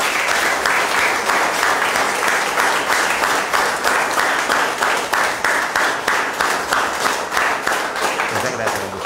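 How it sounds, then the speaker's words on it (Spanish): A crowd at a recognition ceremony for a martial arts club applauds loudly and continuously, rhythmic clapping from many people carrying on for several seconds with some voices underneath. "Un aplauso para el señor Gustavo"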